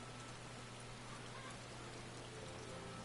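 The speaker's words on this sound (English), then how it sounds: "Oh, because it's raining." Steady rain in the video game Final Fantasy XIV, a soft, even hiss of falling drops with a low constant hum beneath, quiet and unbroken, with no voices.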